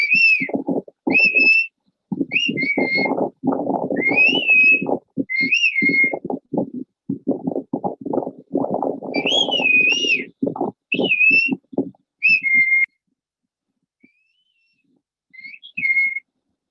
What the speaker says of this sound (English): the phrase by the student that was translated into Mazatec and whistled back across